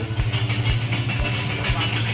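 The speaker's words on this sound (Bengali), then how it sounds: "কথা বলতে বলতেই দেখি বাংলাদেশের একটি ট্রেন আসছে" A Bangladeshi train approaches at the Hili land port on the India–Bangladesh border, with a steady rumble and regular low thumping wheel beats, roughly twice a second, continuing throughout.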